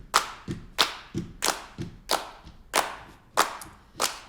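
Audience claps along in a steady rhythm at a folk concert in a New Haven, Connecticut venue, about seven sharp, evenly spaced claps over four seconds, loud and close with no voices.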